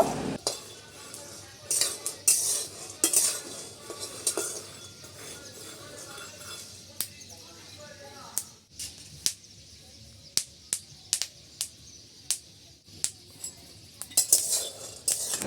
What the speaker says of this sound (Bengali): বাদামগুলো আমি হালকা আঁচে নেড়েচেড়ে খুব ভালোভাবে ভেজে নেব।